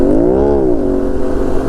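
An Aprilia RS 457 motorcycle with a loud aftermarket SC Pro exhaust revs from a distance, its note swelling up and dropping back in one smooth burst before idling with a rough rumble, with no voices.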